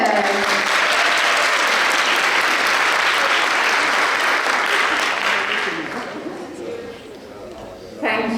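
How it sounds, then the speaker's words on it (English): Audience applause welcoming AUA president Dr. Kai Martinez on stage at the AUA Alumni Homecoming 2022; loud, dense clapping from a large crowd that holds steady, then thins and fades toward the end. "let's clap again, and welcome on stage the president of AUA, Dr. Kai Martinez"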